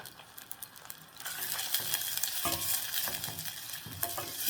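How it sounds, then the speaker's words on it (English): Onions frying in a pot for pilau hiss quietly at first, then swell into a louder, steady sizzle once stirring begins, with a spoon clinking and scraping against the pot at intervals, close up and without speech. "Here now we are going to cook our onions until they are golden brown."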